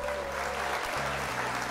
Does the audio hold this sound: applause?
yes